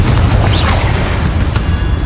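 Explosive spell blasts in Hogwarts Legacy during a duel, a loud, continuous roaring rumble with crashing bursts layered over it.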